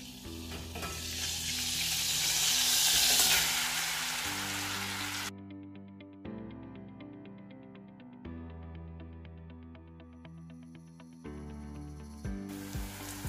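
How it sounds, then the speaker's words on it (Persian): Sliced onions frying in oil and butter for a Persian yogurt soup: a strong sizzle swells for several seconds, then drops under a steady background tone with faint crackle, and the sizzle returns briefly at the end. "پیازها رو خلالی خوردش کردم و الان با این روغن سرخش میکنم"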